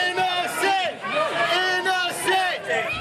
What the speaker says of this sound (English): As crowds of people gathered outside of Fall River Superior Court chanting innocent.